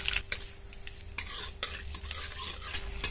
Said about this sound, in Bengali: কড়া বসিয়ে দিয়েছি, গরম হয়ে গেছে, তেল দিয়ে দেবো। 2টো শুকনো লঙ্কা চেরা, কালো সর্ষে